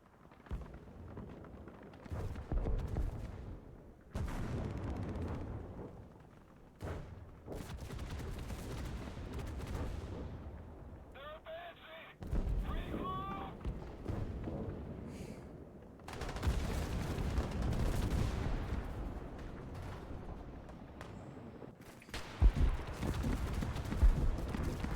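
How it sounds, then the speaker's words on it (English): Gunfire in the War Thunder infantry mode comes as bursts of rapid shots and louder blasts, some heavy and some sparse, running almost without pause across a noisy battlefield mix. "I'm shooting at target dead center and they have plates."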